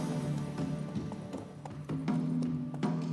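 A horse gallops in The Witcher 3 video game, its rapid hoofbeats clopping steadily and close against a continuous in-game ambience, with no talking.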